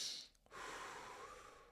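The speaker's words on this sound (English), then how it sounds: "Slowly breathing in, slowly breathing out." A slow, quiet breath drawn in and released, heard close and faint as a soft airy rush with no talking.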